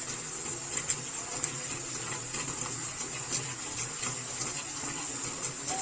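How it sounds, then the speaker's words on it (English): Steady water runs from a faucet into a sink during hand washing, a continuous hiss and splash with no pauses. "And then we use the towel to turn off the faucet."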